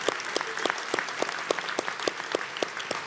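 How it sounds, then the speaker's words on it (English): Sustained applause from an awards gala audience, a steady patter of many hands clapping at moderate volume, with no voices standing out. "give all of our local Agency of the Year and Board of the Year honorees and their hardworking leaders a well-deserved round of applause"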